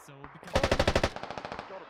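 An MG3 machine gun fires a rapid burst of about a dozen loud, evenly spaced shots in the tactical shooter game Squad, the rounds quickly trailing off, preceded by a brief faint voice.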